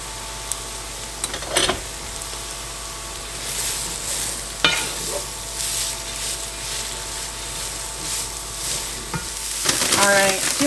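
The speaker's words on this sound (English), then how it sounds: "To my pan, I'm going to add 10 ounces of shredded carrots." Shredded carrots and cabbage sizzle and crackle steadily in a hot pan, with occasional scraping and stirring knocks and a louder clatter near the end.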